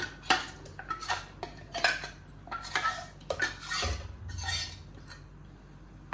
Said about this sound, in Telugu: ఈ మిశ్రమాన్ని బాగా కలుపుకొని